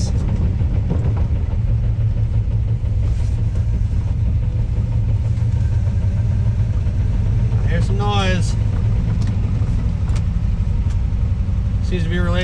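A Honda DA9 with a rebuilt transmission and new synchros drives off, steady engine and driveline rumble running throughout, a rising whine near the eighth second as it shifts up, and people talking over it at times.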